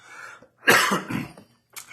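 A single harsh, close cough bursts out after a soft breath, followed by a rasping tail and a brief catch of the throat.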